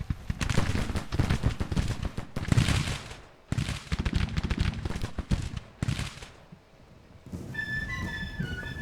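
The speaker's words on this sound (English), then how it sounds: "Just keep shooting them, boys." Soldiers' gunfire in the Grand Tactician: The Civil War video game, in the 2nd Manassas battle: sustained, crackling volleys of massed musketry, loud and continuous, briefly dropping away near the end.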